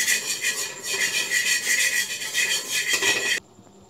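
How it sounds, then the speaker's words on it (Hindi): Flour (maida) roasting in butter in a pan for white sauce, a steady scraping and rubbing of a spoon against the pan with a soft sizzle, close and continuous before stopping abruptly near the end. "उसमें 2 टीस्पून मैंने डाला है इसमें मैदा, इसको भून रही हूँ"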